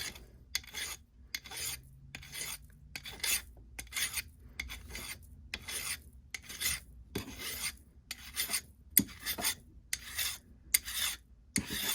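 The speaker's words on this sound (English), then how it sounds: "Tighten this down and file." A metal file works sterling silver clamped in a miter vise, producing steady, regular rasping strokes of moderate loudness up close, with no talking.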